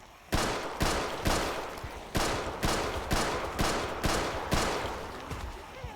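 Gunfire in the zombie survival game Project Zomboid, about nine loud, evenly spaced single shots, each ringing out and decaying before the next, with no talk.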